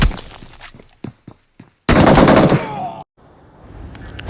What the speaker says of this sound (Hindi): जैसे इसको मैं फायर करता हूँ